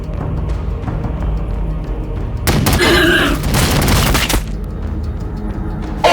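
Heavy gunfire in the Warhammer 40K Battlesector video game: a loud sustained burst of rapid shots and booms erupts over a constant battle rumble, then drops back to the background din.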